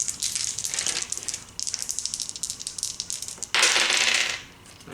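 Dice rolled in a board game, a sustained rattling clatter that swells into a brief louder burst before settling, close and alone.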